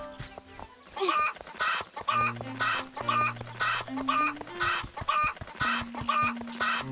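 Cuccos, chicken-like birds in Zelda: Echoes of Wisdom, cluck repeatedly in a steady, bouncy rhythm of short close calls over a simple game melody.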